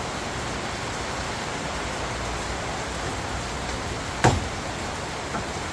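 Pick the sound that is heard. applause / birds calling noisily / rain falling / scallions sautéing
rain falling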